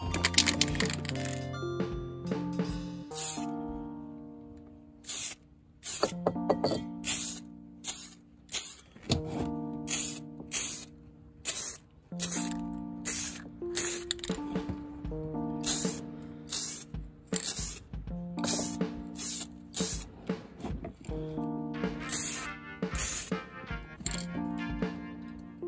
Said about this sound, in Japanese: まあ缶スプレーで塗ってちょっと磨いたりしてこんな感じですね。